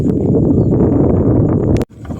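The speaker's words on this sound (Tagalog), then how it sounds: "Hangin eh." Strong wind buffets the microphone with a low, rumbling roar that cuts off abruptly near the end.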